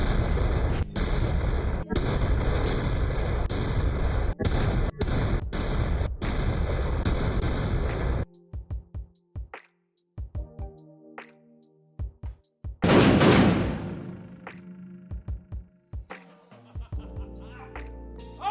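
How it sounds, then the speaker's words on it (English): Custom AR-style pistol built by Vudoo Rifleworks and BruteForce Firearms fired in low light with large muzzle fireballs, a rapid string of loud sharp shots over about eight seconds, then scattered quieter clatter and one more loud blast. "Let me show you how extreme these fireballs are."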